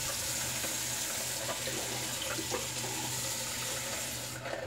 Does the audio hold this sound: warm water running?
yes